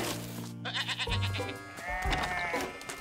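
Cartoon sheep bleat several times in a row, close and clear, with wavering voiced calls that overlap one another.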